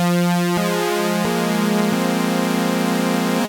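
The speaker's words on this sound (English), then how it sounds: "So in monophonic mode, you only hear 1 note at a time." A Zebra3 software synthesizer in monophonic mode sounds one sustained buzzy note at a time, stepping to a new pitch every half second or so before cutting off sharply.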